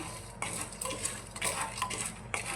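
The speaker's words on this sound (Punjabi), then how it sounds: "ਇਸ ਤਰੀਕੇ ਨਾਲ ਇਸੇ ਤਰੀਕੇ ਨਾਲ ਆਪਾਂ ਇਹਨਾਂ ਨੂੰ ਹਿਲਾਉਂਦੇ ਰਵਾਂਗੇ" Black chickpeas roasting in a pressure cooker without sand, stirred continuously so they scrape and rattle against the metal, close and crisp with small clinks and pops, no voice.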